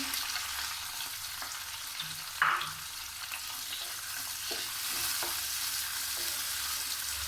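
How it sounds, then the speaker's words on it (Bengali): Onions frying in mustard oil in a wok with bay leaf, a steady broadband sizzle throughout with occasional stirring scrapes and one brief sharper clatter near the middle, close and continuous. "পেঁয়াজ লাল করে ভেজে নেব।"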